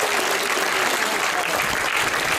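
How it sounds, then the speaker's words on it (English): A zoo bird show audience claps in dense, even applause throughout, sustained and fairly close, with no talk over it. "this time let's have a nice big round of applause"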